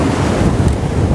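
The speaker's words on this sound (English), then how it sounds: "the light and the waves moving up onto the rocks like that" Ocean surf washes steadily over rocks on a shoreline, a continuous broad rushing wash with wind buffeting the microphone, close and loud throughout with no pauses.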